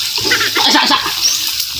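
Water poured steadily into a pot or pan in a home kitchen while cooking, a loud, continuous splashing rush lasting the whole moment with no talk over it.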